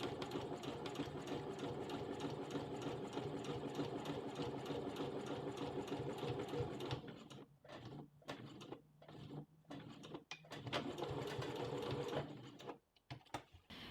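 A sewing machine hums in a steady close run while stitching a bishop sleeve, then breaks into short stop-start bursts with brief gaps before a final pause.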